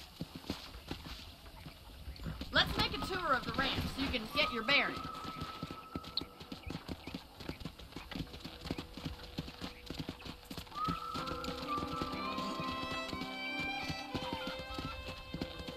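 Horse hooves clip-clop steadily while riding on a ranch in the video game Red Dead Redemption, with a horse whinnying, game music and voices talking over the rhythmic hoofbeats.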